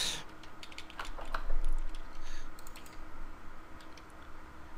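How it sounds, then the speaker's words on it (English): Typing on a computer keyboard: a fast, close run of light clicking keystrokes with brief pauses, fairly soft over a steady background hum, no voices. "I'll just type it in."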